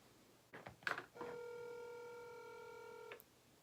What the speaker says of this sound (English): Now here we are calling our first caller today.